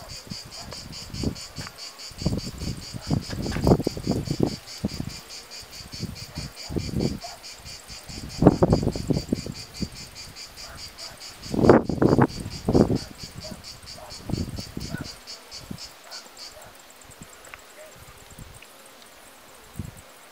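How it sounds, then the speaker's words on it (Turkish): Honeybees buzz steadily around a hive, a thin continuous drone sitting under repeated nearby rustling and handling bursts. "Bakın mesela şu arıya bakın."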